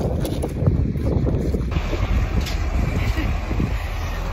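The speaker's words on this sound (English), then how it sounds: "The wind just blew me and the gate. It's really strong." Strong wind sweeps across a flooded farm near a gate, a continuous low roar buffeting the microphone with steady gusty rumble throughout.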